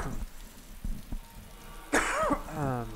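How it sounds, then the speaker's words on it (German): One sharp, fairly loud cough bursts out during a DayZ zombie survival game session, standing clearly above the quiet background. "Scheiß Husten."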